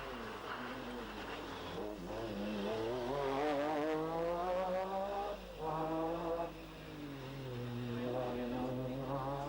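Rally cars race in the 1993 Cork 20 International Rally, engines revving and shifting through rising and falling pitch sweeps, loud and close, with a brief dip mid-way before the roar returns, under faint commentary.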